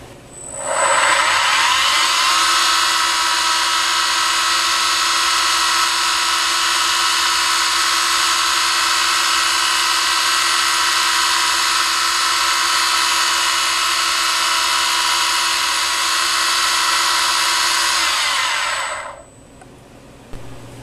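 A milling machine spindle on an M head with worn bearings spins up and runs with a loud, steady high whine for about eighteen seconds, then winds down and stops.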